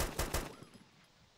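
Two bursts of PKP machine gun fire in the DayZ video game, sharp and loud at the start, trailing off into a quieter fading tail.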